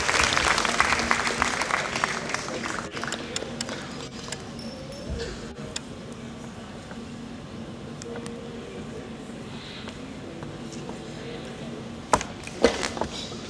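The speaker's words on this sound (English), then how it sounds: "And a bigger round of applause to all of you that are here" Applause from an audience at a Rotary event, louder at first and then fading to scattered, thinner clapping with a few sharp claps near the end.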